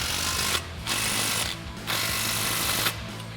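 An impact wrench with a 14 mm swivel socket and extension tightens U-bolts on a Ford F-250 steering stabilizer kit, three loud sustained buzzing bursts separated by short pauses, close by.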